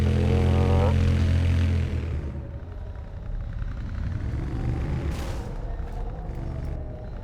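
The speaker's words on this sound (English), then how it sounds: "As much as I don't like driving or riding the motorcycle" A motorcycle engine drones loudly while riding in Tomb Raider Underworld, a strong low tone that drops to a steadier, quieter rumble after a couple of seconds, with a few faint higher clicks near the end.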